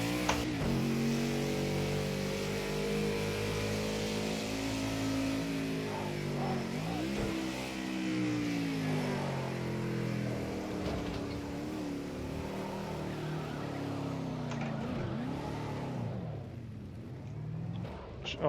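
A car engine in the Project Cars 2 racing game revs and blips its throttle during heel-toe downshifts, a steady harmonic drone that rises and falls across several gear changes with quick revving swells.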